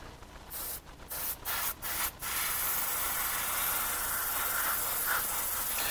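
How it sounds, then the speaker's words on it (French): Airbrush spraying grey paint for a faux marble finish: a few short hissing bursts, then one long continuous close spray. "Donc ici tu vas le faire à l'aérographe."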